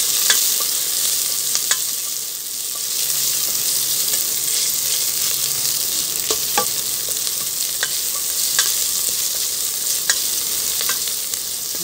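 Onions for chicken tinola sautéing in a pan, a steady close sizzle with scattered sharp crackles and occasional scraping stirs, no talk.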